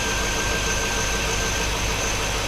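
A 2005 Chevrolet Avalanche engine idles after a slightly rough start, with uneven fuel injector flow. It gives a steady, close, continuous low rumble with no breaks and no talk.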